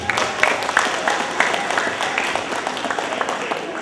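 A room full of people claps together, a busy patter of many hands that stays fairly steady and moderately loud.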